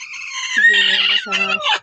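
A broody hen set on a clutch of eggs gives a short burst of close, harmonic clucking calls in two phrases, loud and clear with no voices over it.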